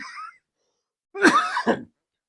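A short, throaty cough with a second smaller cough right after, close and clear in an otherwise quiet room.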